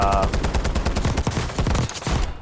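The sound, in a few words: gun firing in Black Ops 6 video game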